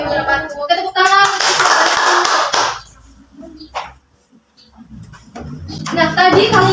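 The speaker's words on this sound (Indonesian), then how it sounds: "Oke, tepuk tangan." Fourth-grade pupils in a classroom applaud after a student presentation, with a loud burst of clapping that fades out. Children's voices come before and after it.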